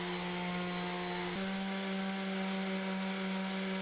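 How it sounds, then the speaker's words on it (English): Power sander working a wood and epoxy pizza board at 220 to 800 grit, a steady whining motor drone with a brief pitch shift partway, continuous and fairly close. "I start sanding down the board and epoxy with 220 grit, working my way to 800 grit to the top portion of the board."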